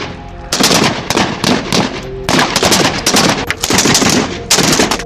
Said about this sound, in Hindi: वो उन पर बगैर सोचे अंधाधुंध फायरिंग करने लगते हैं।